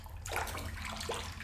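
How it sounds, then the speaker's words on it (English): Splashing, running water from the VR game Vertigo 2, a steady close wash that swells after a quarter second and holds loud for about a second. "that water sound effect"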